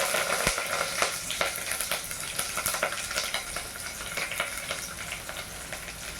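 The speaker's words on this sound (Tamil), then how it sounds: "பொரியட்டும் பரமளவா வெங்காயம் கருவேப்பிலை" Onion and curry leaves frying in a pan for a medicinal greens dish, a loud continuous crackling sizzle with scattered stirring clicks throughout, close up with no voices.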